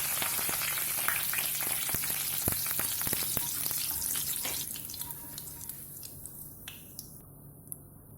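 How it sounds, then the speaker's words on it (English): Cumin and mustard seeds crackle and splutter in hot oil with dense, rapid pops that are loud at first and then thin out and fade to sparse snaps as the spluttering dies down. "Temper the oil with cumin seed and mustard seed. Once it stops spluttering, add in the curry leaves."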